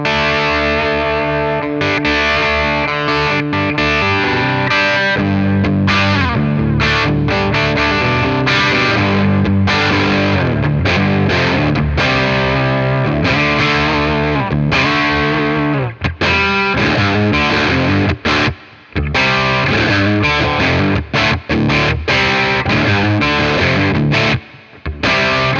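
An electric guitar through a BOSS Nextone amp with an Angry Driver overdrive pedal, playing a dense, distorted riff of chords and single notes that runs loud and continuous, with a few brief stops.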